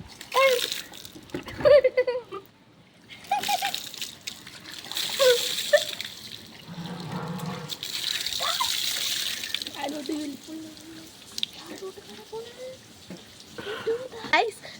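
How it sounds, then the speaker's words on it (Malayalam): A full bucket of water poured out, its gushing splash rising and falling under near-constant chatter, with a voice among the talkers. "ഞാൻ ഈ ബക്കറ്റ് ഫുള്ള് വെള്ളം ഒഴിക്കിട്ടോ"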